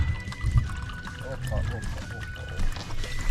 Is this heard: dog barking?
no